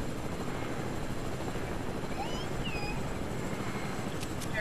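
A helicopter in the video game Fortnite drones with a steady whirring rotor hum under low background noise, with a few faint chirping game sounds.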